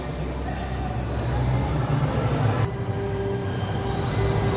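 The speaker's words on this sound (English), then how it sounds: "Speak of the train." A train at the Harry Potter area of Universal's Islands of Adventure rumbles past with a steady low roar and a faint high whine, fairly close, amid outdoor crowd noise.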